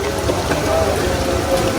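Steady heavy rain pours down, a dense continuous patter drumming on surfaces close by.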